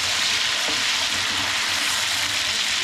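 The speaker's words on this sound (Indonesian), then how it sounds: "Goreng sampai semua bahan-bahan layu ya, sampai mateng." Chilies and tomatoes for sambal terasi fry in hot oil, giving a steady, dense sizzle throughout, close and continuous with no talking.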